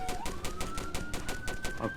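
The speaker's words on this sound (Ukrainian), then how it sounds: "Відкрили вогонь." Rapid bursts of automatic gunfire repeat in a steady rhythm, with a sustained electronic tone running underneath, like a game's combat soundtrack.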